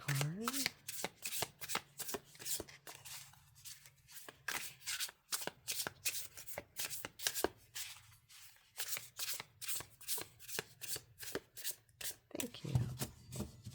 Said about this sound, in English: let's draw some cards